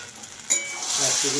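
Mutton brain fries in a pan, giving a soft, close and continuous sizzle over a short stretch, with a brief clink partway through and no talk over it.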